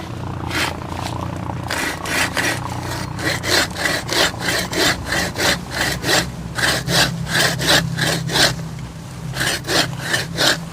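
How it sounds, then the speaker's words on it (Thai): A large hand saw cuts through green tamarind wood in steady back-and-forth strokes, each rasping pass loud and close, with a brief pause before the rhythm resumes. "ใช้เลื่อยใหญ่"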